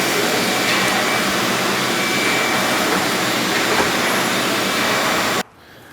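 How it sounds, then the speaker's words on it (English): A loud vacuum cleaner runs steadily across a garage floor before Swisstrax plastic tiles are laid, droning without a break and cutting off abruptly near the end. "I think what I'm going to do is actually just physically take the vacuum and cover every square of the inch of this"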